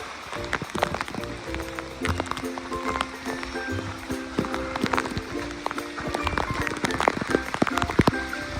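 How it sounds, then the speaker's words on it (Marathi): Rain falls on Raigad fort in thick fog, a close, crackling patter of drops with sharp taps and gusty noise throughout, steady and fairly loud. "पाऊस थांबायचं नाव नाही घेत आहे."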